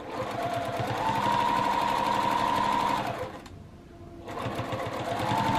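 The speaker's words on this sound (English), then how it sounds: "Comes the time where I'm going to be stitching my binding." A sewing machine stitching straight grain binding onto a quilt with curved corners, a close steady whirring hum that runs, stops for about a second, then starts up again.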